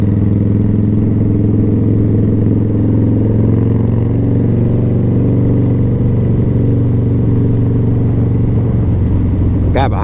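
A Harley-Davidson Fat Boy motorcycle cruises slow parade laps at Barber Motorsports Park at around 40 to 50 mph. Its loud, steady low engine drone and throb continue throughout, with wind rushing over the rider.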